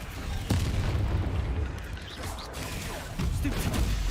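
Bombarda blast spells detonating in Hogwarts Legacy, a sustained rumbling boom with a sharp onset near the start and another heavy burst later, loud and dense throughout with no talk.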